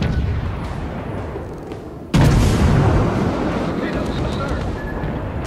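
Naval gunfire and explosions in World of Warships during a Halloween 2018 battle, a sudden heavy boom cutting through a constant loud rumbling din of battle.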